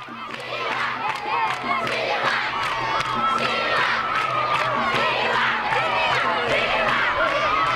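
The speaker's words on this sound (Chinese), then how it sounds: "人们挥舞着中马两国国旗，载歌载舞，热烈欢呼" A large crowd of Malians lining the city streets cheers and shouts in welcome of Hu Jintao, a loud, continuous roar of many voices with overlapping calls and singing, steady throughout.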